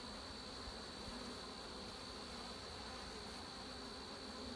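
Honeybees drone in a steady, dense buzz while a struggling hive stands open with its frames being lifted, a continuous close hum with no talk over it.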